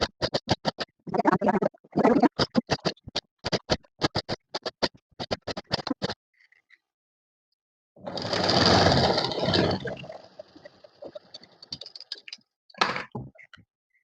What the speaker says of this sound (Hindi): यहाँ पर इसे ऐसे स्टिच करेंगे